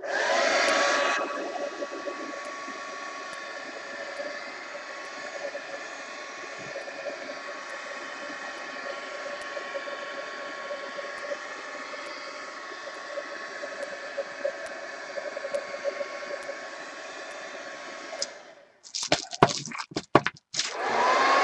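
A heat tool blows continuously for about eighteen seconds while drying a mixed media art journal page, a steady close whirring hiss, then switches off with a few clicks and handling sounds.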